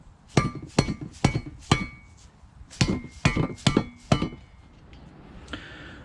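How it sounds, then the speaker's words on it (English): Short metal-ringing hammer taps drive plastic plugs into the open ends of Touratech pannier rack tubing for a Yamaha Tenere 700: a run of four sharp strikes, a pause, then four more, each clear and close. "Some of them might need a bonk from a hammer."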